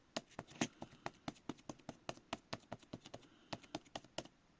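A pencil sharpener lid dabbed on paper to texture watercolour paint makes a rapid, irregular series of sharp, close taps, about two dozen crisp clicks in a few seconds with no voices.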